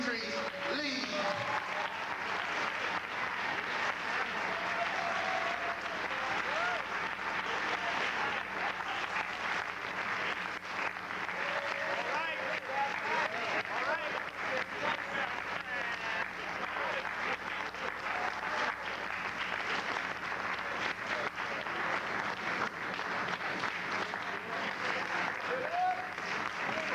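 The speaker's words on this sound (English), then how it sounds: "Let us all stand up, please, and give a warm round of applause to our sister, Utrice Leid." An audience at a talk gives a warm, sustained round of applause, dense and even throughout, with a speaker's voice briefly audible over the clapping.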